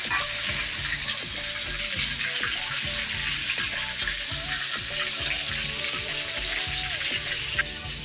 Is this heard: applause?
no